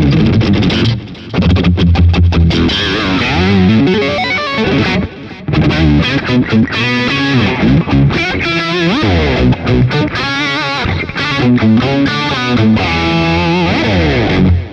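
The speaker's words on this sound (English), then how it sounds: "So let's jam around a little bit more with the octave patch." Electric guitar played through a BOSS Katana AIR amplifier on an octave patch with heavy distortion, a loud, continuous jam of fast licks and sustained notes, with only brief gaps between phrases.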